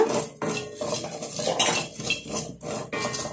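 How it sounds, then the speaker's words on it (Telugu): Black cumin seeds tossed in an iron pan over the stove, heard as loud, repeated metallic scraping and clatter of a spoon against the pan. "ఇనుము బాండలు వేసి బాగా వేయించుకోవాలా"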